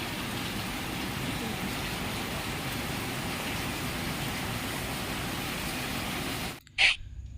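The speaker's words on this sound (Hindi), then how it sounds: "तो अभी आपने देखा कितनी तेज़ बारिश शुरू हो गई है" Steady heavy rain pours down in a dense, even wash for several seconds on a Sunday morning in Punjab, then briefly cuts out before a short bright clatter near the end.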